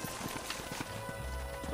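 Horses' hooves clip-clopping in the Red Dead Redemption video game, a steady trotting rhythm close by, with a horse whinny and game music underneath.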